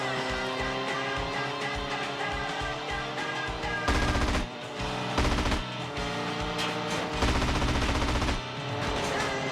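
Gunfire in GTA: San Andreas while shooting down couriers: sustained, repeated bursts of shots that swell louder in several stretches, layered over a steady tonal background throughout.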